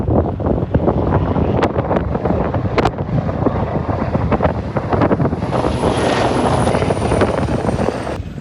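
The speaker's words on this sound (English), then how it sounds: "That was a military helicopter." A military helicopter's rotor thumps and roars loudly overhead on a steep UK hill climb, mixed with gusty wind buffeting the microphone, the noise staying strong throughout.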